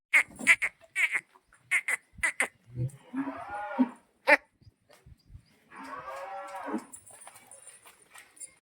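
A Khillar bull close by, giving sharp huffing snorts followed by two long, deep, drawn-out lows, with short breathy pauses between.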